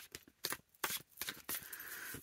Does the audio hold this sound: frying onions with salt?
no